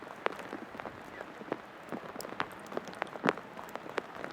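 Light rain falls over an outdoor girls' varsity lacrosse game, heard as scattered, faint patters and drips against a quiet background.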